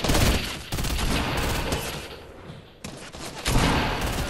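Rapid video-game gunfire in dense overlapping bursts, loud and close, continuing almost without pause across the whole stretch with a brief dip near the middle.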